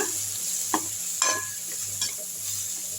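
Steady frying sizzle of moringa flowers and drumsticks sautéing with chili powder, with a few brief scraping stirs against a pan, close and moderately loud over a low electrical hum.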